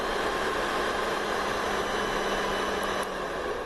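A fan engine inflates a patient isolation bubble with a loud, steady broadband roar and a faint hum underneath. Near the end it drops slightly quieter as the bubble reaches pressure.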